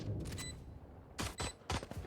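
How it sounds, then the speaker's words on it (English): Gunfire from a tactical shooter video game played in a Korean regional esports match: three sharp bursts of rapid shots, with a short quiet gap after the first and the last two close together. "Some gunfire."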